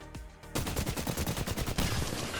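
Rapid automatic gunfire from a video game's Apex Legends firefight aimed at Octane's jump pad, a dense loud burst of fast repeated shots after a couple of single reports, close and continuous with no talking.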